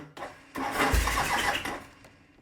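A Norton motorcycle engine cranks and catches, firing into a loud burst of running for about a second before fading back down, heard close up.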